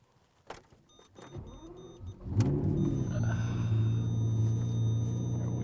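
A Lamborghini Murcielago pulls away: a few faint knocks and clicks, then a deep engine rumble swells in and holds steady and loud, with no talking.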